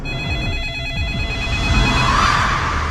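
A telephone rings loudly in a horror movie spoof trailer, a steady trilling bell tone filling the space with a low rumbling bed beneath and no speech over it.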